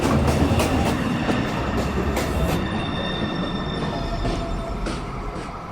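A New York subway 1 train pulls into 207 St station, its wheels grinding and squealing loudly and steadily along the rails with rhythmic clicks, close by and without voices.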